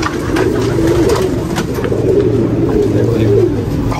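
Crested pigeons in a new home cooing in low, repeated phrases, close and steady, with a voice faintly present in the background.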